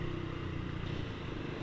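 A Honda Revo Fit FI motorcycle fitted with a racing exhaust pulls steadily under throttle, its buzzy engine note continuous and fairly faint without talk over it.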